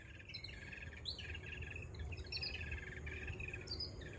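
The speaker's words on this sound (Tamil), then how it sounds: "குருவிங்க எப்படி சவுண்ட் விடுது பாருங்களேன், வித்தியாசமா." Sparrows in a garden give rapid, unusual high chirping calls in repeated bursts, moderately close over a soft background hum of insects.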